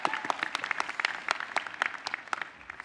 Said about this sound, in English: so just one more round of applause.